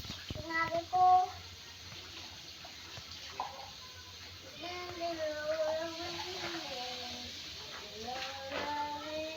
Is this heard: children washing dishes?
yes